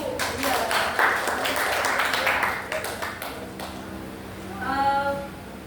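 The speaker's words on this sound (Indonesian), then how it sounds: "Tepuk tangan untuk kelompok 1." Students in a classroom applaud for group 1 with a dense run of claps that tapers off, followed by a short ringing tonal sound near the end.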